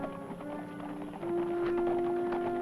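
Horses' hooves clopping in a Western setting, a soft irregular patter under a steady tonal background, slightly louder in the second half.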